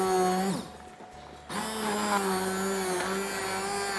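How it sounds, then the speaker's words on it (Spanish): A small kitchen blender whirs as it blends gazpacho, its motor steady and loud with a strained pitch, briefly dropping and bogging down about half a second in before surging back up to a sustained drone. "Vamos a batir. Un poco chico el cacharro, pero bueno."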